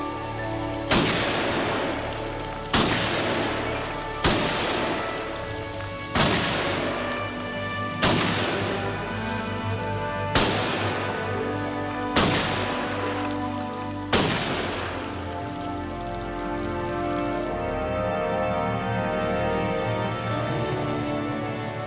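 Cartoon 12-gauge shotgun gunfire rings out in eight evenly spaced booming blasts about two seconds apart, each with a long reverberant ring that fades into a sustained tail.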